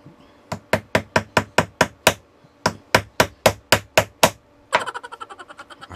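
A hammer taps repeatedly on a clip fan part during repair, two bursts of about eight sharp, evenly spaced knocks, then a quicker rattling run of lighter taps.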